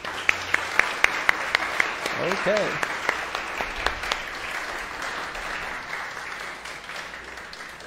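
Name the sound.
church congregation applause for Jesus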